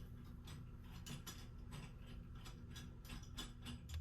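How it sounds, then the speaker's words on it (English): A Moen bathroom faucet is tightened into place under a sink, likely with a wrench or ratchet. The clicks and scrapes are quick, faint and mechanical and come in repeated short strokes close by. "This works, so now I just gotta tighten it up."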